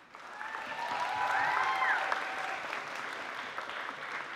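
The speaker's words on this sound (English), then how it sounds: "I think you guys should all just get a huge round of applause" Audience applause at a UCSC KASA annual banquet award show, a broad sustained wash of clapping that swells and then holds steady across the room.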